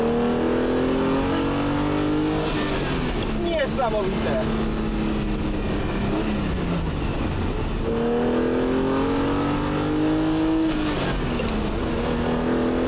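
A Ferrari Daytona's engine revs up repeatedly on a race track, pitch climbing and dropping through gear changes, loud and close, with a voice talking over it briefly.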